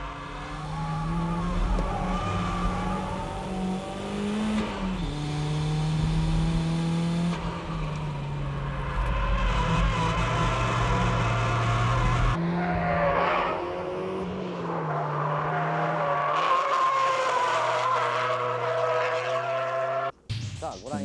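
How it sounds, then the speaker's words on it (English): A Toyota MR2 with strong oversteer drifts at high speed, its engine revving and its tires squealing and skidding in long, sustained slides, loud and close, with a voice talking over it. "This is how you drift with cars that have strong oversteer."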